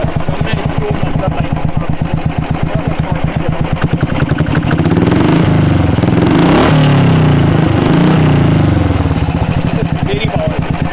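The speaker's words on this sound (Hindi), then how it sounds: "ये जो है आपको आइडल के अंदर आप सुन रहे हैं इसकी आवाज़ है।" A Royal Enfield Thunderbird 350X motorcycle with a custom exhaust idles close by, a steady rhythmic thump that swells briefly mid-clip as the throttle is blipped before settling back to idle.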